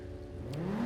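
A Pegassi Torero XO supercar in GTA, modelled on the Lamborghini Countach and fitted with an infinity exhaust, revs with a rising engine whine that climbs steadily in pitch, fairly quiet and alone.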